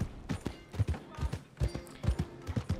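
Horse hooves clip-clop at a steady walking rhythm in Red Dead Redemption 2, sharp close thuds repeating in pairs across the span with no voice over them.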